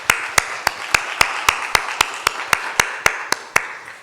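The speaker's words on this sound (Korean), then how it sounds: "이들을 위해서 한번 감사의 박수를 한번 하겠습니다" A church congregation claps in thanks during a Sunday service, producing sharp, evenly spaced claps at about four per second in a steady rhythm against a quiet background.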